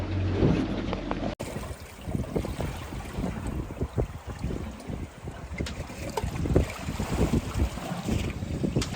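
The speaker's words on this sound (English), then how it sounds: "Just reposition the boat and have another drift." A small fishing boat is moved into position for another drift while fishing for snapper, with a steady wash of water and heavy wind buffeting the microphone throughout, and no voices.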